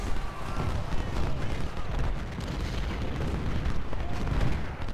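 Massed Civil War cannon and musket fire in the strategy game Ultimate General: Civil War, a dense ongoing rumble of overlapping booms and crackling volleys, moderately loud and unbroken with no clear individual shots standing out.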